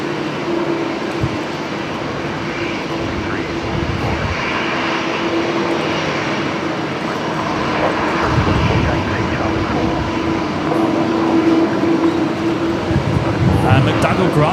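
An Airbus A330 landing at Brisbane Airport at night in a 20-knot crosswind, heard as a steady distant engine roar that swells slightly midway, with a voice talking over it throughout.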